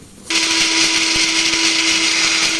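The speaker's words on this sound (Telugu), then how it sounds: "ఇవి కలిపి ఇప్పుడు మిక్సీ పెడుతున్నాను." A mixer grinder blends ingredients for drumstick curry in its jar, cutting in abruptly after a brief quiet moment with a loud, steady, high-pitched whirring drone that holds to the end.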